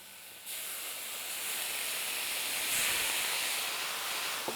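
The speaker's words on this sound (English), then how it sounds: "On this, I'm going to drizzle now a bit of water. I'm going to make this huge sizzle." Water hits a hot pan and bursts into a loud, sustained sizzling hiss that continues steadily without letting up.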